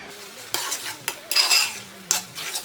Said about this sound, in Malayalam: ഇനി ഇതിലേക്ക് നമ്മൾ ഈ എടുത്തു വെച്ചിരിക്കുന്ന പഞ്ചസാര ചേർത്ത് ഇളക്കി കൊടുക്കാം